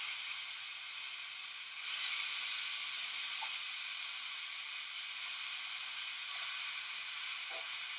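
A steady, soft hiss of onion sizzling in a hot frying pan, with a slight rise in intensity partway through and occasional faint pops.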